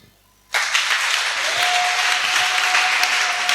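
A church congregation bursts into loud, sustained applause after a moment of near silence, many hands clapping together in a large room and continuing steadily to the end.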